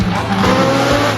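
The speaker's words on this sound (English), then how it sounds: "Very cool to see all the fun different race cars that have gone by." A race car at the Skradin hill climb in Croatia passes close and loud in a brief, roaring rush of engine noise with some tire sound.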